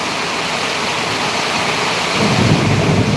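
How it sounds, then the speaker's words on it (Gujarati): Steady roar of heavy monsoon rain in Surat with a low rumble of thunder swelling near the end after a lightning strike, loud and close. "વીજળી પડી જો"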